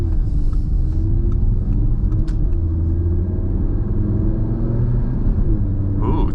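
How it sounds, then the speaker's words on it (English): A 2019 Audi TT RS with its five-cylinder engine in sport exhaust mode while driving, a loud, steady deep rumble with a low droning hum throughout and slight swells, heard from inside the car. "just had to make sure that we're in sport exhaust mode because that's where we want to be"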